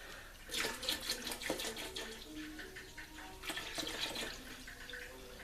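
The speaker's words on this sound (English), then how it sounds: "I'm going to add a half gallon of half and half" Half a gallon of half and half is poured into a pot of fish and corn chowder, a close, gurgling liquid pour that comes in uneven glugs and surges without talk.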